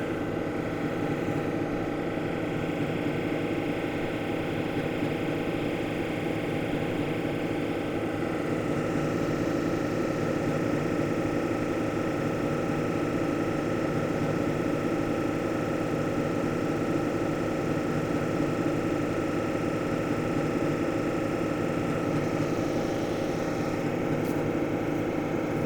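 A wood cabochon buffed on a 280 grit polishing wheel gives a steady, unbroken motor drone with a rough grinding texture that holds level for the whole stretch, with no talking.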